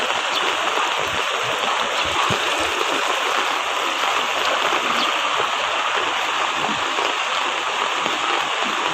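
Steady, dense rushing of typhoon flood water flowing without pause, a broad continuous roar close by with no voices.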